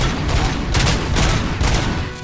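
Video game gunfire roars continuously as a dense, loud fusillade, with overlapping rapid shots and a few stronger surges throughout.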